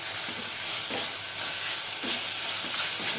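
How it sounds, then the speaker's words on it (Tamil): Mushroom chukka is stirred in a pan on low heat, a continuous soft hiss and sizzle with rhythmic scraping strokes of the spoon repeating every second or so, close and steady with no voices. "நல்லா கைவிடாமல் நல்லா சிம்மில் வச்சுட்டு நம்ம கிளறி விடணும்"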